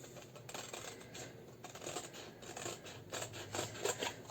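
Scissors cutting around a traced outline in bookbinding cloth, soft, close snipping and rustling strokes in a quiet room, faint and steady throughout.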